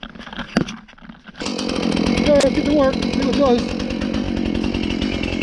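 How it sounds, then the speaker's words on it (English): A chainsaw starts up after a quiet stretch and runs steadily at close range with a dense, buzzing drone, idling and revving through the rest of the clip while someone speaks briefly over it. "So I'm going to get this chainsaw fired up."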